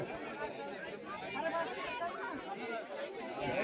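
A crowd of tourists chatters nonstop at Matheran's monsoon-season dam: many overlapping voices form a dense, steady babble close by, with no single voice standing out.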